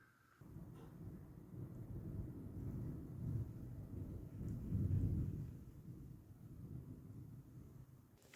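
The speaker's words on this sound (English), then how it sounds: "we've also got thunder rumbling around" Low, continuous rumbling of distant thunder swelling and fading over several seconds, with a soft wash of rain and wind noise beneath.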